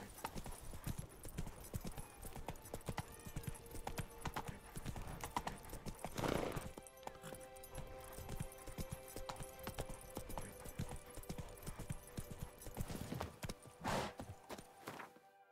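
In The Witcher 3, Roach trots with a steady clip-clop of hooves, fairly faint and continuous, and the horse whinnies briefly once or twice.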